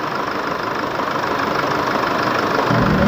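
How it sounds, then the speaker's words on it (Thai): An Isuzu D-Max 4JK1 diesel pickup engine with leaking injector washers, clogged injectors and a cylinder head fault idles steadily nearby, a loud continuous rumble with a rougher low clatter swelling near the end. "เครื่องยนต์นิ่งคลิปเลยนะคันนี้จะรันทิ้งไว้สักพักหนึ่งนะ"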